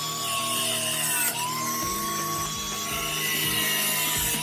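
A power tool cutting off the excess part of a bent metal piece for a welded cactus planter stand, a loud continuous grinding whine with shifting pitch throughout.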